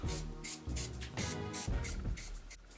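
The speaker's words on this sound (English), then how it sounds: "Then just spray my face." Several short hissing bursts of a makeup setting spray bottle, sprayed onto a face, repeat at a steady pace, close and fairly loud, with no talking.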